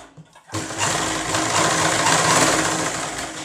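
A sewing machine runs steadily while stitching a katori blouse, starting after a brief quiet moment and keeping a close, continuous, dense whirring hum through to the end.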